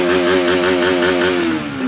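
A 200cc Kawasaki Rouser motorcycle engine held at a steady rev around 2,000 RPM, a loud close continuous drone that sags slightly at the end, with no talk over it.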